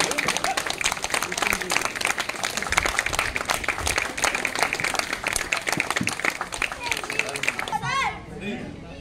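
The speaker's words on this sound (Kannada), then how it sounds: "ಜೋರಾದ ಚಪ್ಪಾಳೆ" Loud, sustained clapping from an audience at a martial arts demonstration, dense and steady for about eight seconds with children's voices mixed in, then fading out near the end.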